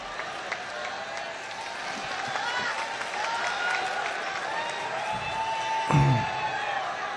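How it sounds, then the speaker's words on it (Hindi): Applause at an Urdu mushaira in Aurangabad greets poet Iqbal Ashhar, moderate clapping and scattered cheers from a large crowd, with a few voices and a sharp bump near the end. "आइए जोरदार तालियों के साथ इस्तकबाल कीजिए जनाब इकबाल अशर"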